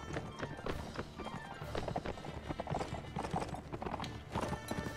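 Horses gallop in Mount and Blade Warband, a rapid, continuous drumming of hoofbeats that fills the whole stretch at an even, moderate loudness.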